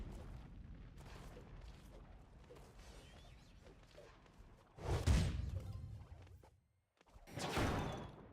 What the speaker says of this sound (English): Benson hitting himself with his own rocket